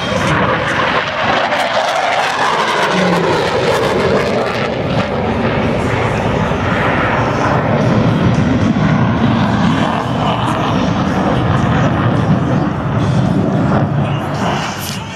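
F-18 Hornet fighter jets roar past at the Sun 'n Fun 2012 air show, a loud, continuous, broadband engine rush that fills the whole stretch without fading.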